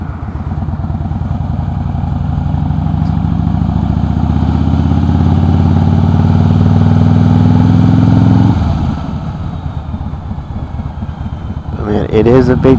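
A 2008 Harley-Davidson Crossbones V-twin with a Prism Tube exhaust runs close and loud, its throb climbing steadily in pitch as it revs for about eight seconds, then dropping back to a lumpy idle before a brief blip.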